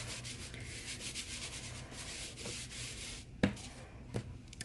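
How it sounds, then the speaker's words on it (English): An embossing buddy rubbed back and forth over a paper card base, a close, steady scratchy brushing followed by a couple of sharp taps near the end. "So I'm going to rub this quite a lot with the embossing buddy."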